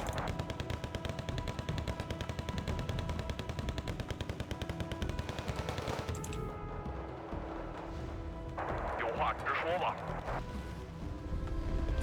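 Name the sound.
gunfire and artillery in the video game Wargame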